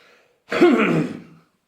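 One short, close throaty cough or throat clear, a single rough burst lasting about a second in otherwise quiet surroundings.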